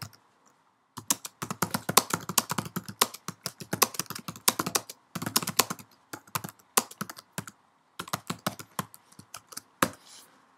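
Fingers typing on a computer keyboard in quick bursts of close, crisp key clicks, separated by short pauses, with no voices.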